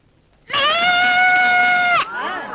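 A goat lets out one loud, close, drawn-out bleat lasting about a second and a half, then trails off into a softer, wavering tail.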